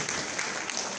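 Steady, dense applause from the audience at a product launch conference for the Itel S15 and S15 Pro phones in Côte d'Ivoire, filling the whole second at an even level.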